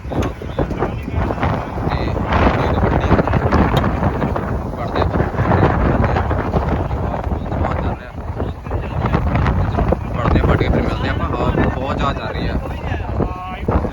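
Strong, steady wind ahead of a storm buffeting the microphone in a Punjab village farm field, with a constant roar and rumble, loud and close throughout, with a voice faintly underneath.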